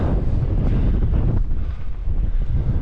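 Strong wind buffets the microphone on a Scottish mountain hillside on Beinn Ghlas, a loud continuous low roar that swells and dips without pause.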